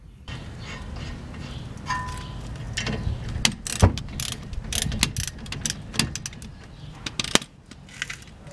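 A ratchet fitted with a 9/16 socket works loose the brake caliper bolts on a car, giving close, irregular clicking and clanking metal taps with scattered sharp knocks.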